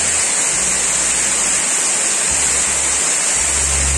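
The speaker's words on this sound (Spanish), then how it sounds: "bienvenidos a la cascada de Cerro Quemado, en Pueblo Nuevo, Loja" The Cedro Quemado waterfall in Pueblo Nuevo, Loja, Ecuador, roars as a steady, dense rush of falling water, loud and close, continuous with no pauses and no voices.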